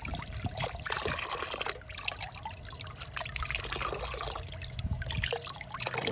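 Water runs steadily over a dyed disc during a quick rinse, a continuous close trickling and splashing with no pauses and no voices.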